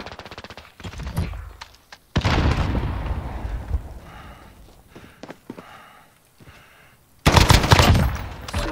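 Close, loud bursts of automatic gunfire from a gun in Call of Duty Modern Warfare 2019, separated by quieter stretches of movement and fading echoes, then a final heavy volley.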